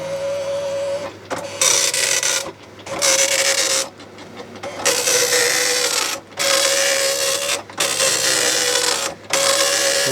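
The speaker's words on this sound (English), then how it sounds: "We got a working printer." A Commodore 64 dot-matrix printer runs its self-test, its print head buzzing loudly across the line in repeated bursts of roughly a second or more, separated by short pauses as the carriage returns and the paper feeds.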